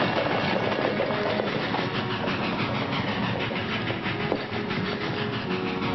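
A train rolls past with a steady rumble, hiss and rhythmic clickety-clack of wheels over rail joints, continuous and fairly close throughout.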